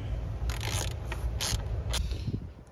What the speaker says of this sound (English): You can use a ratcheting wrench, you can use a speed wrench, you can use whatever you want. Just as long as you get these bolts down.